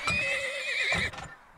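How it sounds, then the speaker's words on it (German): Horses whinny in the oil-tycoon video game Turmoil, one loud, close neigh with a wavering, descending pitch, followed by a short second whinny and faint hoof clops, with no talk over it. "Jetzt brauchen wir bestimmt Pferdchen hier."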